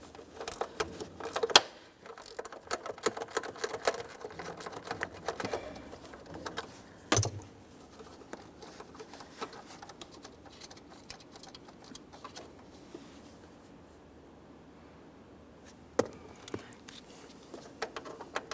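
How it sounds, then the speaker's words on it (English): A 10mm ratcheting wrench clicks steadily while removing mounting bolts on a 1994–1997 Honda Accord, rapid faint ticking in long runs with a sharp clank partway through. "Get this one down here with a 10mm ratcheting wrench"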